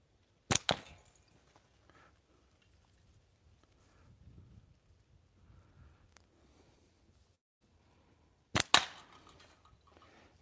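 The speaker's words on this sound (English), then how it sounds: "Shooting right through that can." Two sharp, close gunshots about eight seconds apart are fired at a can outdoors in snowy cold weather, with faint rustling and quiet movement between them.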